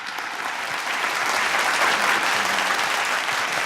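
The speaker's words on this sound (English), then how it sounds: "Let's give a big round of applause for Bruce." A crowd gives a speaker warm applause at a tech kickoff event in Los Angeles, with steady, full clapping that swells slightly after the first second and holds.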